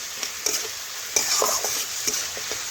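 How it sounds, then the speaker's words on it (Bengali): Spice masala being stirred and fried in a pan, making a soft continuous sizzle broken by several sharp spatula scrapes and clinks, close and alone without talk. "এখন ভালোভাবে 2 থেকে 3 মিনিট আমি কষে নেব"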